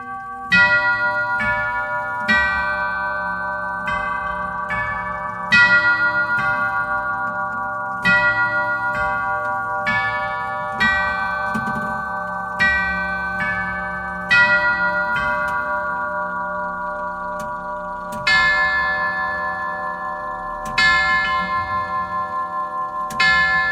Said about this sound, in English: This is actually a tubular grandfather clock.